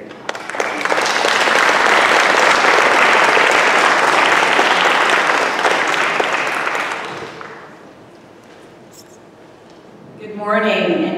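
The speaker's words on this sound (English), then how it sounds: "Please give applause." Audience applause at a formal event honoring a U.S. Institute of Peace board member, loud dense clapping swelling for about seven seconds then fading away before a voice begins speaking.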